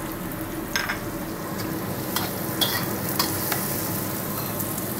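Shallots fry in a pan for sweet-spicy orek tempe, with a loud, dense crackle and hiss throughout. Several scraping stirs and spatula knocks cut through the sizzle, and no one speaks.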